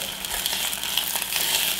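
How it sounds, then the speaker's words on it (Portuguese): White wine boils in a pan to cook off the alcohol, giving a steady, close, bright sizzling hiss with faint bubbling and no talking. "Então, vou deixar fervendo um pouquinho."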